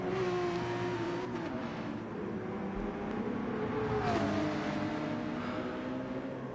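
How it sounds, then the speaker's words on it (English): Race cars in the 2023 Nurburgring 24 Hour lap the circuit, engines droning steadily throughout with a continuous rumble and a rising pass near the end, thumping over concrete track sections. "As we hear the cars thumping over that concrete sectioning."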